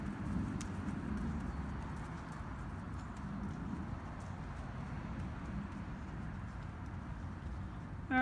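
Steady hoof clip-clop of a horse walking on a hard surface, continuous and moderately close, with a low rumbling background throughout.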